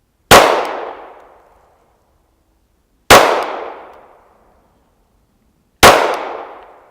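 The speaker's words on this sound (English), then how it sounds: "Let's keep shooting." Three loud, sharp gunshots from a Glock 43 single-stack pistol at a shooting range, spaced evenly about three seconds apart, each cracking hard and ringing out into a fading tail before silence.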